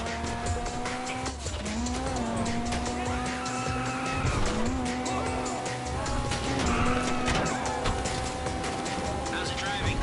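A car in GTA Online drives hard with engine tones rising and falling while tires squeal and skid repeatedly, loud and continuous, with a voice talking over part of it.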